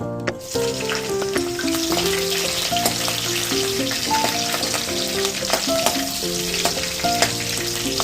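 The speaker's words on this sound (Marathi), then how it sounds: "मिरच्या सुद्धा आपण अशा परतून घ्यायच्या" Sliced green chillies and mustard seeds frying in hot oil in a pan, a loud, steady, close sizzle with crackling seeds popping throughout.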